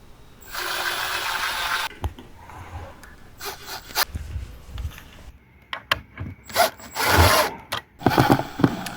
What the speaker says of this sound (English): we throw in a few screws